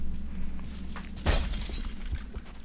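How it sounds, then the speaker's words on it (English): A window smashes in XCOM: Enemy Unknown as a soldier crashes through the glass, a single sharp shatter over a low game ambience hum. "he smashed through the window"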